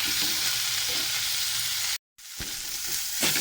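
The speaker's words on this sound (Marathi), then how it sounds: "टोमॅटो पण चांगला नरम होईपर्यंत आपण त्याला भाजून घ्यायचं." Tomatoes fry in a pan while being stirred, giving a bright, steady sizzle with occasional scraping strokes, close and alone, with a brief cut to silence midway.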